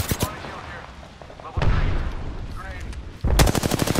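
Gunfire in the Apex Legends video game, rapid bursts of shots starting and stopping across the clip, loud and close, with a player's voice talking over parts of it.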